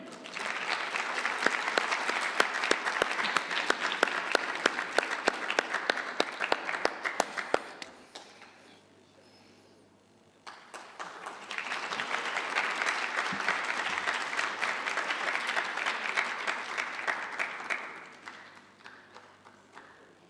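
An audience at the Pan African Mathematics Olympiad ceremony applauds in two long rounds of dense, fairly close clapping, separated by a brief lull of near quiet, with the second round fading out at the end.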